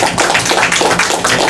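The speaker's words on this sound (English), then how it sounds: "let's give Brother Prince and Brother James a good round of applause" A live audience at an Islamic lecture gives a round of applause for Brother Prince and Brother James, the dense, steady clapping of many hands filling the room at full volume.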